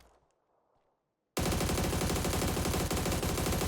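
Sustained FAMAS automatic fire in PUBG: a loud, dense burst begins after about a second of near silence and rattles on without pause to the end, with no talking over it.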